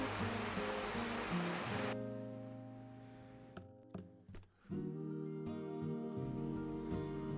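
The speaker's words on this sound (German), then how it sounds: "entspringt dieses eiskalte Wasser aus einem Stein und zieht seinen Weg durch einen deiner kaum begehbaren steilen Gräben" Ice-cold spring water rushing down a steep, barely passable mountain gully, a loud, steady broadband roar that drops away briefly in the middle, with a few hollow knocks, before the full torrent noise returns.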